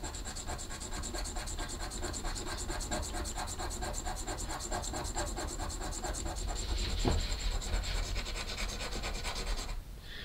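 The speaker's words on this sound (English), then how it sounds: "here's the bushing, and I'm going to sand it down a little bit" A knife bushing, from a Grayman Dua knife, rubbed back and forth on a fine diamond stone, giving a steady rhythmic gritty scraping that continues alone and close for nearly the whole stretch.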